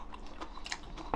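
Crunchy spring cabbage kimchi (bomdong geotjeori) being chewed close up, a run of soft wet crunches in steady rhythm, fairly quiet with no talking.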